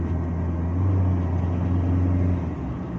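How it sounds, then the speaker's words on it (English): A Maxus T60 pickup truck accelerates with a steady, loud engine drone that swells slightly mid-way, heard from inside the cab without talk. "Now you'll see that acceleration is quite adequate."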